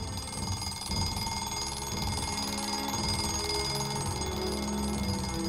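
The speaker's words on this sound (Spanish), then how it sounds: "Las 7 ya, se dijo cuando sonó de nuevo el despertador." An alarm clock rings with a continuous metallic buzzing, steady and fairly loud throughout the stretch, with no voice over it.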